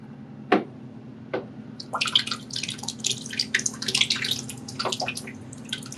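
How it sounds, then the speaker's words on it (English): Wet paper pulp is poured into a papermaking screen: a couple of sharp knocks, then a rush of splashing and dripping water that keeps trickling, close and moderately loud. "So I am literally just going to pour it right into the screen."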